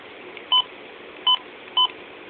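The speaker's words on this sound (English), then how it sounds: "Now I can take care of those annoying button beeps." A Midland WR-120EZ weather alert radio gives three short electronic button beeps, evenly sharp and clear, over a quiet hiss.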